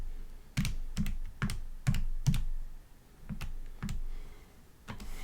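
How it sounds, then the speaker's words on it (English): Keys on a calculator are pressed in a quick, uneven series of close, crisp taps, about a dozen presses with short pauses between them in a quiet room. "I'm going to type that in my calculator"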